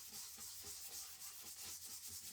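Steady, faint scraping and rubbing as chalk paste is smoothed across a surface, with a continuous hissy texture and a soft repeated back-and-forth rhythm throughout.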